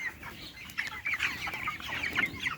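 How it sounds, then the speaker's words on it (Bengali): A flock of 23-day-old broiler chickens clucks and chatters continuously at close range, many overlapping calls with no talking. "এই মুরগিগুলোর বয়স আজকে 23 দিন"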